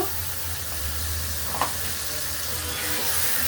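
Spice paste and tomatoes fry in a pan, giving a steady, even sizzle and hiss that holds at a moderate level throughout with a faint clink midway.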